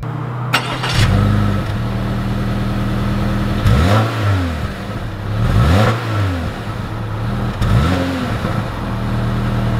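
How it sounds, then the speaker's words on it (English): A 2020 Subaru Crosstrek Limited pulls away with a close, loud engine, rising and falling through three distinct rev sweeps over a steady running hum. "Let's take the Crosstrek out and see how it drives."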